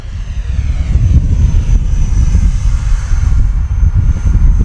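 A Freewing L-15 64mm EDF model jet's engine roars steadily overhead, a broad, loud rushing drone with a thin high whine on top, holding level throughout.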